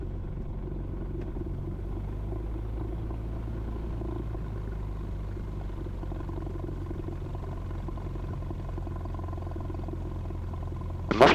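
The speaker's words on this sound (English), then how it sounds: "The muffler on this plane sounds a little different" A light aircraft engine with a muffler runs up for takeoff on the runway at Camden, New South Wales, a loud, steady low drone with a rumbling throb that stays constant throughout.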